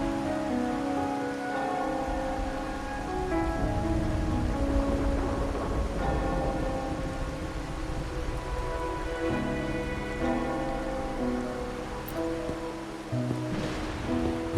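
Rain falling steadily in the video game Wuthering Waves, a continuous hiss of drops under sustained music tones and ambient game sound, with no voices.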